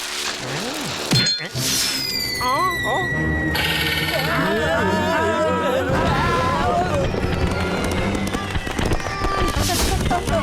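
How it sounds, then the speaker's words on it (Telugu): Cartoon firecrackers and rockets burst in quick succession. Sharp pops, whistles and crackles pile over lively cartoon voices and a bright musical backdrop. "మా టపాకాయలు కొట్టుకుని నిప్పు అంటుకుంది."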